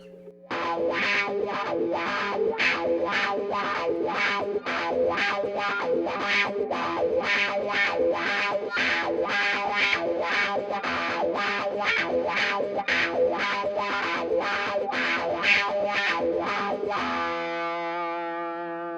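Distorted electric guitar riff on the bridge pickup through a Crybaby wah pedal, swept vocal-like tone, steady rhythmic chords played loud and up close, ending on a ringing sustained note.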